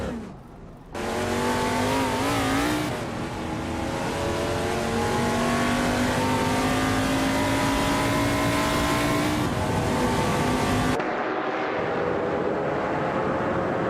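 Race car engines in an AI racing video game scream at high revs, pitch climbing through gear changes, loud and sustained after a quiet opening and cutting off abruptly near the end.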